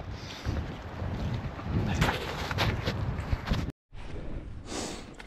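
Storm wind blows hard and steady outdoors, a rough broadband rush with gusty swells and one sudden brief dropout.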